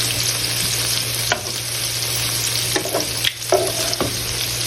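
Steak, noodles and vegetables fry in a pan with a steady, close sizzle and a low hum, broken by a few clattering stirs of a utensil; no one speaks.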